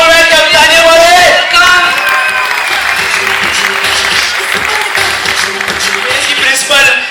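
Audience applause with whoops and shouts fills a hall at a college annual function, loud and sustained throughout, welcoming a guest, with crowd voices and music-like tones mixed in.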